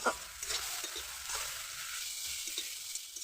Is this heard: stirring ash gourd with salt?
yes